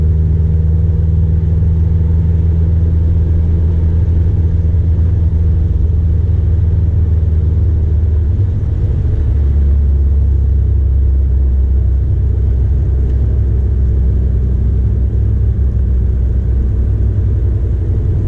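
The engine of a 2004 Nissan Sentra SE-R Spec V drones loud and close from inside the cabin as the car pulls through the upper gears, its low steady roar shifting in character partway through.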